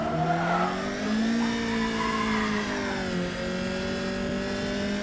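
Alfa Romeo 105 GTA 1750 race car at full throttle on the Croft circuit, engine note rising steadily through the gears with a brief dip at a shift, loud and close from onboard.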